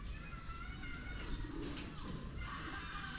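Pigeons in a pigeon loft coo softly in a low, murmuring rhythm under a steady background hiss, faint and somewhat distant.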